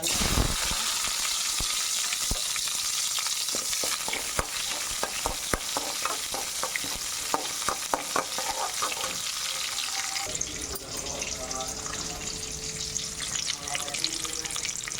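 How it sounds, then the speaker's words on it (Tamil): Onions sautéing in hot oil with popped mustard seeds and urad dal for sambar, a continuous sizzle with stirring scrapes, the texture shifting partway through as the pan settles. "வெங்காயம் ஓரளவுக்கு வதங்கலாம் போதும் சாம்பாருக்கு"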